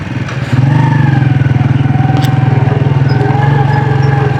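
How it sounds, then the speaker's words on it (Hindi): A motorcycle engine runs steadily and close by on a mountain route between Laspur and Shandur, rising to a constant, even drone after half a second and holding loud throughout. "तो जी यहाँ पर बाइक को करते हैं पार्क"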